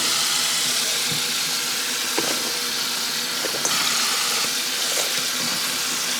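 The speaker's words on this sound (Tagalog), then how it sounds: "Hugasan naman natin ang ating mga gulay." Tap water runs steadily over vegetables in a kitchen sink as a constant close hiss, broken by a few soft knocks and splashes as the produce is handled.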